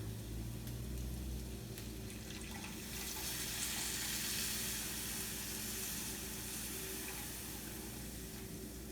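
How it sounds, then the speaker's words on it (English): Milk poured into a pan of cooked sausage and flour sizzles loudly, a constant hiss and crackle of frying with a watery rush as the liquid hits the hot pan, close and steady throughout. "And now we're going to add our milk"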